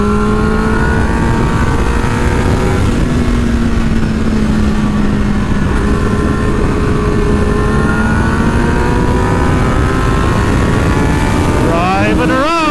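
A Suzuki GSX-R 750 sport motorcycle ridden on a racetrack during a track day, its engine droning loudly and steadily with gradual pitch shifts, heavy wind buffeting throughout, and a sharp rev rise at the end.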